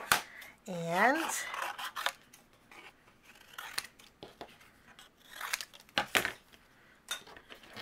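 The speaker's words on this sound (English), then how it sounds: "I'm finishing up my fussy cutting." Scissors snip paper butterflies in fussy cutting, quiet close crisp cuts arriving in irregular clusters with a soft scraping rub between them.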